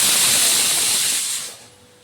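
Garlic dropped into a hot pan gives a loud, steady sizzling hiss that holds for over a second, then quickly dies down to a faint crackle.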